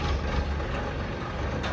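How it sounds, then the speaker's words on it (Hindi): A tractor engine runs steadily nearby with a loud, low, continuous rumble, no talk. "पापा जी पहली बार देखे ट्रैक्टर चलाते हैं।"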